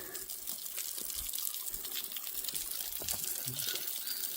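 A waterfall along a hiking trail, heard as a steady rushing, splashing wash of falling water that holds at a constant level, with no voices.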